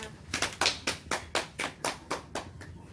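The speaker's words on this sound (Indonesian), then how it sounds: "Coba beri tepuk tangannya" Classmates clap in unison for a student's presentation in a microteaching class, about nine evenly spaced, crisp claps in a steady rhythm, fairly quiet, with no talk.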